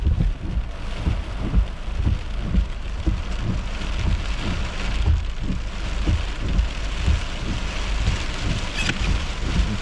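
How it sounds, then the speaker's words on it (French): Small hail and rain patter densely on a car during a thunderstorm, a loud, continuous close drumming with uneven low thumps throughout. "la petite grêle."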